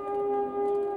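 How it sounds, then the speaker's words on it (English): Civil defense air raid sirens sound across Israel on a Holocaust memorial day, a steady, loud, sustained wailing tone that holds level with a slight swell, alone without talk. "Air raid sirens rang out, bringing the country to a standstill for 2 minutes."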